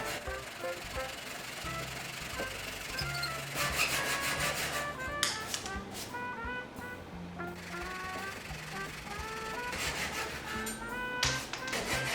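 A handsaw cuts gently through the wood of an old locker in steady back-and-forth strokes, close and fairly quiet, with rhythmic rasping bursts and brief pauses.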